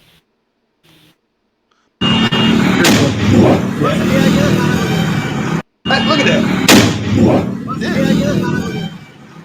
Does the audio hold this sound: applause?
no